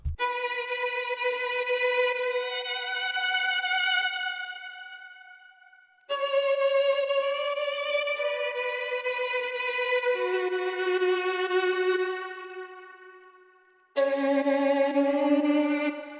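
Spitfire solo violin sample played in Kontakt, sustained bowed notes in three long phrases separated by short gaps, clean and alone with no effects.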